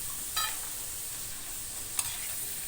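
Food frying in a generous amount of hot oil while kanda poha is being made: a steady, close sizzling hiss that runs throughout, broken by two brief metallic clinks.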